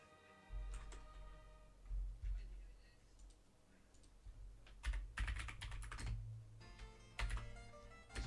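Typing on a computer keyboard, with bursts of clicky keystrokes starting and stopping at an uneven pace over a low steady hum, near and moderately loud, with some talking partly mixed in.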